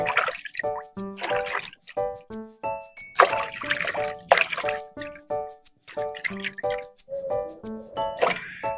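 Bamboo shoots being washed in water while a Lao bamboo shoot curry is prepared: a steady run of drips, splashes and squishy sloshing that comes close and fairly loud, with no talking.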